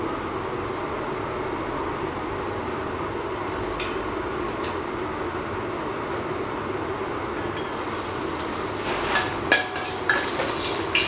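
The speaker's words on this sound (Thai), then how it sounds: "เจียวกระเทียมให้เหลืองไปนะครับ" Garlic fries in pork fat with a steady, close, even sizzle throughout, and a few light clinks of a utensil near the end.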